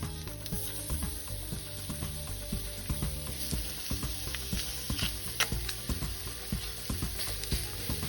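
Beef rib steak searing in its own fat on a plancha, a dense continuous sizzle with crackling pops throughout, close and steady with no talk.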